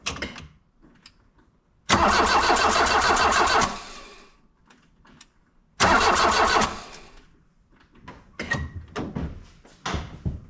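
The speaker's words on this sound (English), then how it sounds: "I'm not gonna try to start her yet, but I'm gonna crank it over." A 1977 car's engine cranks over with the starter in a garage without firing, two loud churning bursts of about two seconds each, separated by quiet clicks and small knocks.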